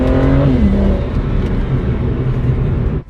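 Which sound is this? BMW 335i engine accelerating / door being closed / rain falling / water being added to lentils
BMW 335i engine accelerating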